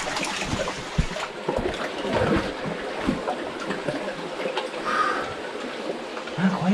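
Steady broadband rushing of a water cascade flows through abbey tunnels, a continuous splashing wash with people talking intermittently over it.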